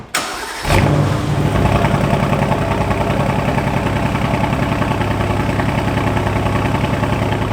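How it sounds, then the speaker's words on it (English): A GTR Pro sports car cold-starts with a sharp crank and bark, then settles into a loud, steady, rumbling idle that carries on close by with no talking. "Let me give you guys a cold start and show you guys what this thing sounds like"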